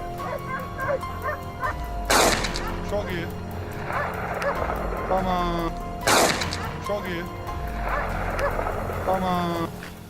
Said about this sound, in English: Past the frenzied barking of the dogs, a haunting silence gripped the forest.